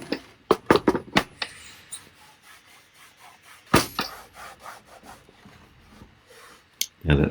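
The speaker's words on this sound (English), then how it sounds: "Give the box a good clean, see there." Close, scrubbing wipes and rubs of a cloth with vinegar cleaning fluid on a wooden projector box, in bursts of quick strokes with pauses, plus a few knocks against the wood.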